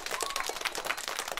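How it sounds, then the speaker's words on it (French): Thunderous applause from a crowd, a dense steady patter of many hands clapping throughout, moderately loud and without talk. "Un tonnerre d'applaudissements accompagna ma prouesse."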